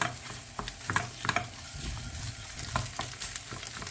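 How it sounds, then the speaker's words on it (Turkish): Pepper paste sautéing in a pan while being mashed and stirred, soft sizzling under repeated scraping and tapping strokes of a spoon, close and fairly quiet. "Bunları güzelce şimdi burada eze eze kavuralım."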